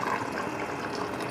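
Water poured into a pot of rice while cooking chicken in a casserole, a steady close trickling splash running the whole short moment with no talk.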